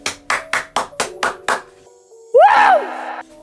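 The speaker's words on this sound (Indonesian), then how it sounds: "Tepuk tangan dulu dong." Seven sharp, evenly spaced hand claps ring out close and clear in a quick steady rhythm. A short bright synthetic tone follows after a brief pause.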